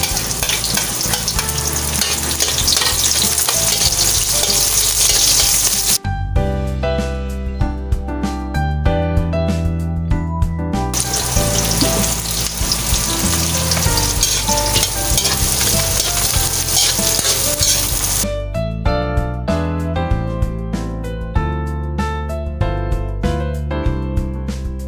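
Garlic and onion sautéing in a pan for a large batch of pancit canton with bihon noodles, a loud continuous sizzle heard in stretches under prominent background music.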